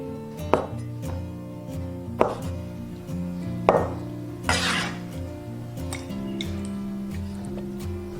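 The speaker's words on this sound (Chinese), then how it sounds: "准备老豆腐，给它切成小块。" A knife chops firm tofu into small pieces on a board, with a few sharp, separate strikes and a louder scraping cut, all over steady background music.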